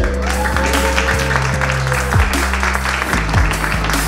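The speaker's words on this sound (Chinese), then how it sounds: "掌声响起。" Applause at a watch launch event for a Stephen Chow co-branded Memorigin NOBODY NFT wristwatch, steady and dense throughout, with music-like tones underneath and no talk.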